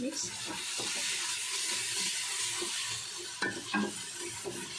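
Food sizzles steadily in a hot frying pan while a utensil scrapes and stirs chicken and green pepper in uneven strokes, with a few louder clanks near the end.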